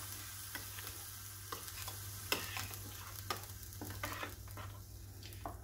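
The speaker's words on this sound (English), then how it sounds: "Give it a mix, just light mix." White coconut chutney stirred lightly with a spoon after tempering is added, giving a quiet crackling sizzle with irregular scrapes and clicks of the spoon over a low steady hum.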